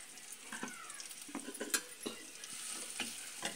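A spice paste frying in a tempering of red chillies, curry leaves, cumin and mustard seeds gives a steady sizzle close by, with scattered stirring scrapes and light clinks of a utensil against the pan, and no voices.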